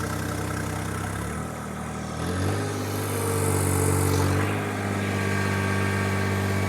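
A John Deere 1025R compact tractor engine idles with a steady low rumble, its pitch dipping and rising slightly partway through as it settles back to an even drone, with no voices.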